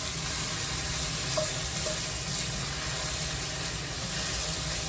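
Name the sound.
carrots and celery sizzling while being stirred in a pot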